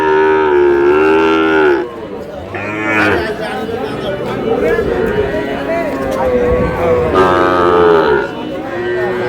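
Cattle and young bull calves at a livestock market moo loudly and repeatedly in long drawn calls, with people chattering and talking underneath.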